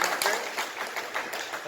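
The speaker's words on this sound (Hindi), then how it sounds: "इसलिए सबसे गुजारिश है एक बार हम तालियां बजाकर" Short spell of crowd clapping at an anti-addiction campaign gathering, a moderate, uneven patter of many hands with a faint voice mixed in.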